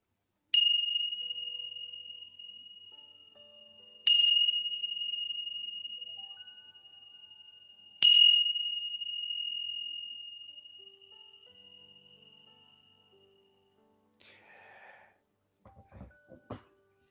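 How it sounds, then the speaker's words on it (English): Three clear bell strikes ending a meditation session, a few seconds apart, each ringing out and slowly fading into quiet, followed by faint rustling movement. "now I'm going to ring the bell to end this session"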